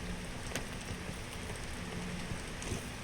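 Steady rain falling in the video game PEAK, an even, continuous hiss of drops with a few faint taps, heard alone without speech.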